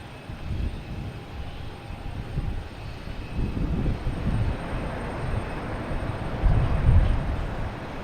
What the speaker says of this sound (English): British Airways is actually moving.